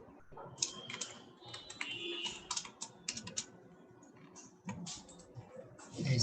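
Rapid, uneven keystrokes of a computer keyboard as HTML code is typed, in short bursts with brief pauses, close and fairly quiet with no talking.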